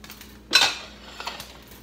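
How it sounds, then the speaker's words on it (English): A cooking pot being handled in a home kitchen while making lemon cream pasta, giving one brief clattering metallic knock followed by a couple of fainter clinks, close and alone. "I use that same pot and just saute the garlic and make the"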